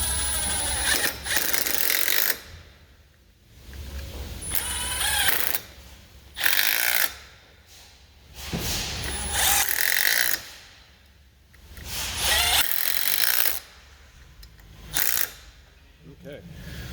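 T27 Torx bolts tightened on a Ford 6.0 Powerstroke diesel during a fuel leak repair, with bursts of rapid ratchet clicking in short runs, close and fairly loud, separated by pauses and handling noise.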